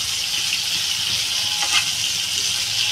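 Kochur loti (taro stolons) frying in hot oil until reddish, a steady bright sizzle and crackle close by, with a brief stirring scrape midway.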